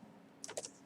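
Brief, quiet burst of a few keystrokes on a computer keyboard as a file name is typed, close and soft, with no speech.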